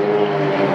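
Extra aerobatic propeller planes flying close formation at an air show in Mielec: a steady, loud droning engine note with a strong tonal hum, continuous throughout with no voices.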